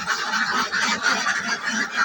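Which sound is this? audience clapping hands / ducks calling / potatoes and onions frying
ducks calling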